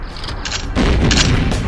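A loud, rumbling bomb explosion bursts in GoldenEye Source, a deep sustained boom with crackling mid-range debris that holds for nearly a second after a quieter mechanical lead-in.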